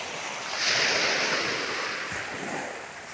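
Sea waves wash in at the seaside in Marinduque, Philippines, a broad rushing surge that swells and slowly recedes, with some wind buffeting the microphone and no talking.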